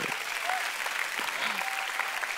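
A church congregation applauds during a sermon, a continuous, full wash of clapping throughout.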